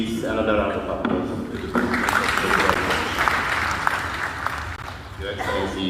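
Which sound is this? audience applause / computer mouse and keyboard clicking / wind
audience applause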